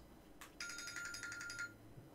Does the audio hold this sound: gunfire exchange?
no